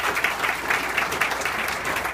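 Steady round of applause from attendees at a community road improvement meeting, dense even clapping throughout.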